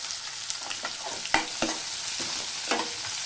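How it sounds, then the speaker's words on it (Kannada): Chopped onion goes into hot oil seasoned with asafoetida and sizzles steadily at close range, with a few loud utensil knocks and scrapes as the pan is stirred. "ಈಗ ಈರುಳ್ಳಿ ಹಾಕಿಕೊಂಡು ಬಿಡೋಣ"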